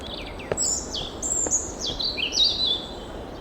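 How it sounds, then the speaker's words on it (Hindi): Birds chirp in a morning forest with a series of high, sliding tweets and whistles, fairly close and clear over a soft, steady background, with a few sharp clicks. "जंगल जहां हर सुबह पंछियों की चहचहाहट गूंजती थी"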